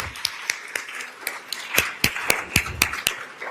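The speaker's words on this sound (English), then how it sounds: "One more round of applause." Scattered claps from a small conference audience after a talk, a dozen or so distinct hand claps in an uneven rhythm, fairly close and moderately loud, with no steady roar of a larger crowd.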